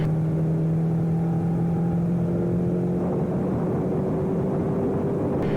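Suzuki GSX-8R sport motorcycle accelerating up to freeway speed, a steady engine drone with a rising tone under strong wind rush, loud and continuous with no talk.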